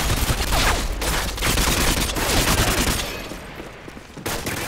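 Dense automatic and rapid gunfire from the video game Modern Warfare 2 fills the clip, loud sustained bursts and fusillades with brief lulls, continuing steadily from near.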